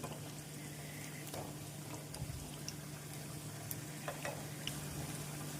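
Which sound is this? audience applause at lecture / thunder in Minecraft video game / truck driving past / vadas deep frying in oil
vadas deep frying in oil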